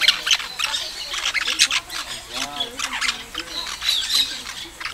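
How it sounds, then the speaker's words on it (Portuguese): A pair of parakeets squawks repeatedly while feeding at a bird park in Foz do Iguaçu, with harsh, close calls coming in an irregular, busy stream alongside other chatter. "aqui tem um casalzinho de periquito"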